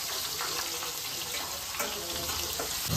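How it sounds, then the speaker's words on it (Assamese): Fish heads and potatoes fry in hot oil with a dense, steady crackling sizzle that holds close and even from start to finish. "আলু ভাজি আছে বাপাও কি তেল পৰেও আজি তেলে ফুটি আছে মাছৰ মূৰ ভাজি আছে"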